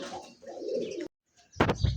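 A pair of pigeons gives low, throaty coos up close, broken by a brief silence and then a louder burst of cooing and rustling.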